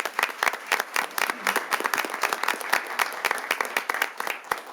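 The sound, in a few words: round of applause at a city council meeting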